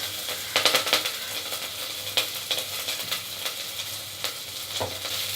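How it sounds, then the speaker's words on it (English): Chopped ginger and green chilies sauté gently in oil over a low flame for pumpkin sabzi, a soft, steady sizzle broken by several light metallic clinks and scrapes of a stirring spoon against the pan. "Let it lightly saute on low flame for about a minute."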